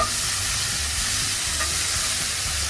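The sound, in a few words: tomatoes thrown into hot pan for pan sauce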